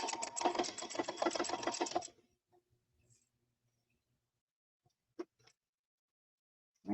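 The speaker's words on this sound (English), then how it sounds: "I'm just going to straight stitch all the way around the 3 sides." Sewing machine running a straight stitch along three sides of a craft piece, a steady rapid mechanical whirr for about two seconds before stopping, then near silence with a couple of faint clicks.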